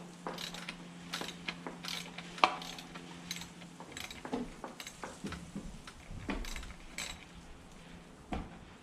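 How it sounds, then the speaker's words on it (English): A Push 32 mm chamferless socket turns to loosen the cap on a Fox 36 Float fork, giving faint irregular metallic clicks and ratcheting ticks with one sharper clack, quiet and close with no voices. "we're going to go ahead and use the Push 32 mil chamferless socket"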